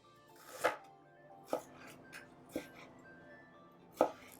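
A knife chops vegetables into small triangles for a stir-fried conch dish, giving four separate sharp cuts against a board with pauses between them, close and alone with no talking.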